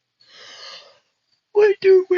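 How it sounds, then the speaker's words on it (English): A person lets out a short, breathy yawn, a soft airy exhale of under a second, then starts talking right after a brief pause. "Sorry, I was yawning."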